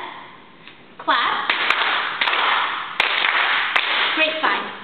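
Sharp single hand claps ring out at intervals during flash mob dance instructions, loud and crisp over the upbeat music while an instructor speaks.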